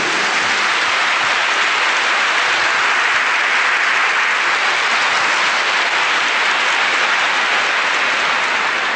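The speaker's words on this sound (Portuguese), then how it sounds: "Give the Lord a big clap for that." A large church congregation applauds at a healing service, dense, loud and continuous clapping that fills the whole stretch evenly like heavy rain, with no voices on top.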